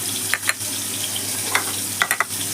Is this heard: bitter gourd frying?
yes